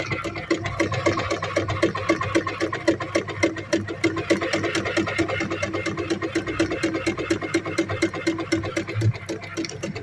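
A Veritas 8018/2 domestic sewing machine stitches steadily forward and then in reverse, its needle mechanism chattering in a fast, even rhythm over a low motor hum, close and continuous throughout.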